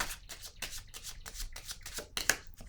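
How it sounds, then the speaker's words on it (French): Tarot cards handled and set down during a reading, a quick series of soft papery flicks and slaps in a fairly regular rhythm, close and fairly quiet. "Je vais déposer une carte ici."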